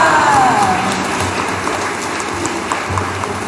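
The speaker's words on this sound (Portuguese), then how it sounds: "Uma salva de palmas a Nossa Senhora." Festive crowd applause for Our Lady of Carmo at an evening church celebration unveiling the feast's poster: a steady, dense wash of clapping at moderate distance, continuous throughout with a brief whistle-like tone near the start.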